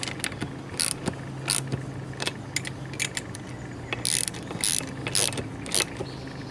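Ratchet wrench tightening the cylinder head nuts on a scooter engine, giving close, crisp bursts of clicking strokes in an irregular rhythm, with no talk.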